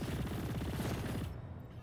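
Video game gunfire rattles in a rapid, continuous burst of rhythmic shots for over a second, then cuts off abruptly, leaving a low fading rumble.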